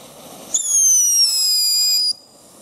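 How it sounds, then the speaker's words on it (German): A Class 1 whistling firework lit outdoors by a forest meadow lets out one loud, sustained shriek that holds for about a second and a half, then cuts off sharply. "Echt lautes Pfeifen."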